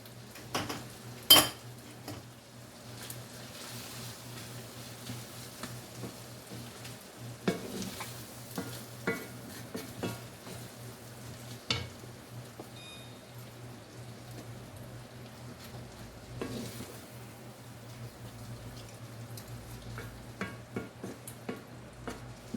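Fresh corn fries with butter in a pan, a soft, steady sizzle heard fairly quietly and up close, broken by occasional clicks and scrapes of a utensil stirring against the pan.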